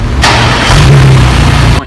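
A 2018 Acura TLX V6 cranks and fires inside the cabin after a push-button start, then settles into a steady, even hum that carries close and loud for under two seconds.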